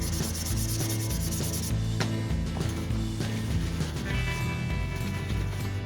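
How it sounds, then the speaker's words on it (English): Aluminium being wet sanded with 800 grit wet and dry paper and WD-40, a continuous rubbing scrape heard alongside steady tonal background music. "I'm going to hit this with some, that's actually 800 wet and dry and a bit of WD-40"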